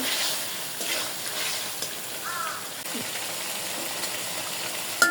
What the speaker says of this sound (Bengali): মাছটাও ভালোভাবে কষাইতে হবে